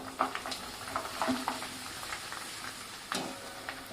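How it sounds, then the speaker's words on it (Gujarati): Corn poha flakes are added a little at a time to hot oil and fry with an irregular crackling sizzle, marked by small bursts and stirring scrapes. The sound is moderate and close, with no voices. "હવે આપણે મકાઈના પૌવા છે એ આ રીતે થોડા થોડા એડ કરીશું, એટલે વ્યવસ્થિત છે એ આપણે અંદર તળી શકીએ."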